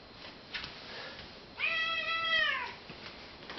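A cat gives one clear, drawn-out meow at close range in a quiet room, preceded by a couple of faint shorter sounds.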